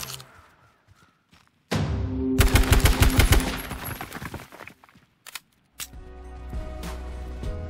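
Bursts of gunfire in the battle-royale game H1Z1: King of the Kill, loud clustered shots in the middle followed by further rattling volleys, with no voices.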